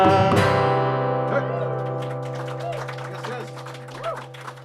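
Audience clapping along to a live performance of the folk song "Whiskey in the Jar" at a Friday night concert; steady rhythmic claps ring out over sustained instrumental tones and singing.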